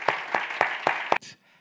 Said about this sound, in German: einen großen Applaus für Julia Pustet alias Made Boys Cry.